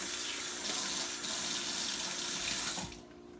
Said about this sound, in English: always wash your hands after handling raw meat before touching anything else